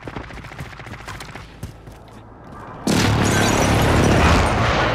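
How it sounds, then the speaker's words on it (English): Airstrike blasts in Call of Duty: Modern Warfare: scattered gunfire, then a sudden heavy wall of loud, rumbling explosions that stays dense and sustained to the end. "Be advised, friendly precision airstrike inbound."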